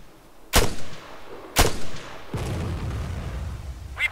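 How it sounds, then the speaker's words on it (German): Incoming mortar rounds in the video game ArmA 3 land in three heavy booms spaced about a second apart, each a sharp crack with a rolling low tail, followed by a sustained rumble, fairly close and with no talk. "We've got incoming mortar fire."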